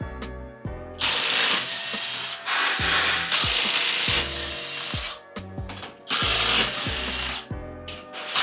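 Repeated bursts of a ratcheting hand tool and power-tool whirring as the main bearing caps are removed from a blown 2023 Acura Integra L15 engine, loud and close, with clanks and short pauses between runs.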